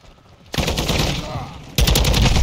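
Bursts of video game gunfire, rapid automatic fire that starts abruptly, fills the mix loudly and then surges again, with players trading shots in a close, chaotic exchange.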